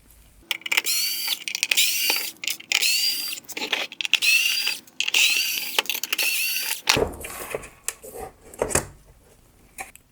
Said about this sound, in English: Next, I'll remove the 6 T20 torque screws holding the main bracket.